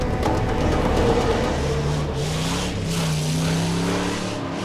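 A car is driven toward a forest, its engine a steady, continuous drone with a rising and falling pitch, heard close and without any talk.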